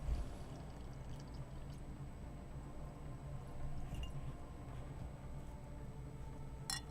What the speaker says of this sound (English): I need to pour some more wine